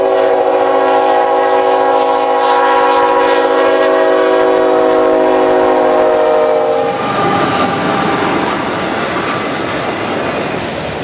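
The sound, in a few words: MBZ-YC auto freight train rolling across highway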